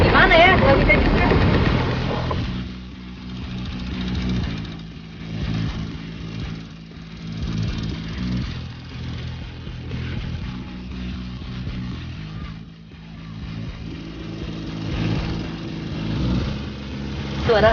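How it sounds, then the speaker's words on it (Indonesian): Small katinting longtail boat engines race on Lake Tondano, a steady buzzing drone that is loud at first and then settles into a sustained mid-distance roar with fluctuating revs, voices faintly mixed in. "Suara khas mesin katinting menambah gemuruh acara perlombaan yang saya ikuti."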